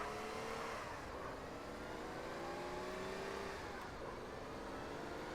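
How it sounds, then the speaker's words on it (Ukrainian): A 2011 Mercedes CLS in a driving video game roars at high speed, its engine note holding a steady high pitch with slight rises and falls, loud and continuous with no talking. "Просто офігенний CLS банан, який їде дуже швидко. І може їхати ще швидше."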